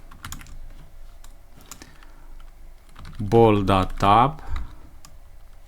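Quick, clicky keystrokes on a computer keyboard sound close by as Python code for a Pong game is typed. Someone talks over the typing for part of the clip.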